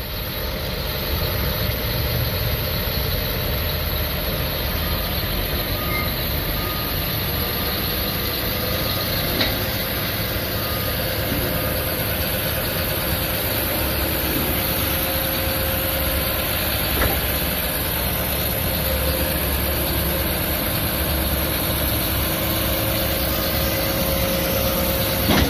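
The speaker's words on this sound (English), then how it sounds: "One of our beautiful John Deere 850Ks just got out of the shop. Firing it up right now." A freshly serviced John Deere 850K crawler bulldozer idles nearby, its diesel engine giving a steady, loud, rumbling drone with constant mechanical vibration and no change in pace throughout.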